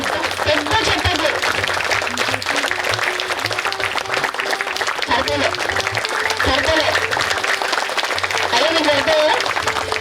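A crowd at a Mahila Shakti Chandi homam event applauds the guru, sustained clapping filling the whole stretch while a voice talks over it.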